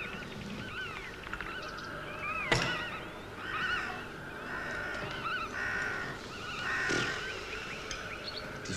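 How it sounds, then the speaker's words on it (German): Birds in a monastery garden, several calling and chirping at mid distance, with harsh crow-like caws and a few louder sharp calls rising over a steady outdoor background. "Die Vögel, sie singen so reizend. Sind das die Vögel aus dem Klostergarten?"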